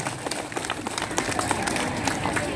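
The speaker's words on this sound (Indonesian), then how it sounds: "ayah, tepuk tangannya ayah" Audience hands clapping at a concert in Desa Kundi Bersatu, a dense, continuous patter of many claps with sharp individual hits poking through, moderately loud and sustained throughout.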